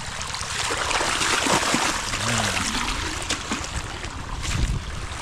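Irrigation water flowing strongly on a farm beside a deep river, a continuous rushing and gurgling wash mixed with wind-like noise, steady and fairly loud throughout.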